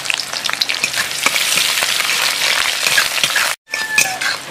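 Onions fry in a pan with bay leaf for a village-style Malabar spinach curry, making a loud, close sizzle with frequent stirring scrapes. The sound cuts out for an instant near the end, then resumes.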